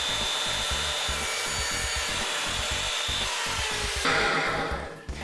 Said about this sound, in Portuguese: agora eu posso serrar a madeira inteira